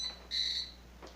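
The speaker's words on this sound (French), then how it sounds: "l'alarme fait le bruit et vous pouvez voir que il fait le bruit et il allume une lumière" A proximity distance alarm gives one steady high electronic tone lasting about a third of a second, close and clear against a low background hum, with no talk.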